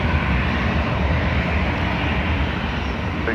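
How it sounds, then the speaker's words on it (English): An Aer Lingus airliner departs Dublin Airport, its engines giving a loud, steady broadband roar that stays constant and close throughout with no voices. "So this Aer Lingus is off to Birmingham."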